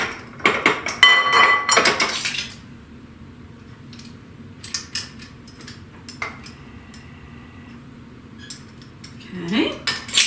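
Flour and baking powder for double chocolate espresso cookies measured into a bowl, with metal spoons and measuring cups clinking and tapping against the bowl in short close bursts separated by quieter gaps.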